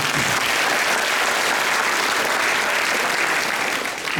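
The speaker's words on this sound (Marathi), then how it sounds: "एकदा जोरदार टाळ्या" An audience at an entrepreneurship development workshop claps loudly and steadily for about four seconds, a dense, even wash of applause heard close up without any speech.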